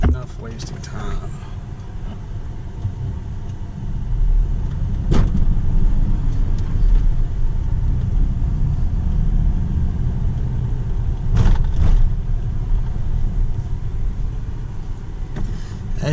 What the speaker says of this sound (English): As you can see, engine starts right up.